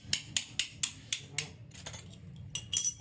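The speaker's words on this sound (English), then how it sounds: "you put it here like this, right? And you just hammer it down." A hammer tapping vise grips down onto a toilet part, sounding as a run of six sharp metallic knocks at a steady beat, then a pause and a louder final double strike, close by and with no talking.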